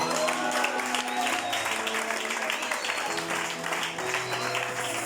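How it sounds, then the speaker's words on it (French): Church congregation applauding for Jesus during a sermon on marriage, steady sustained clapping from a crowd with voices and some musical tones mixed underneath. "Est-ce qu'on peut acclamer pour Jésus?"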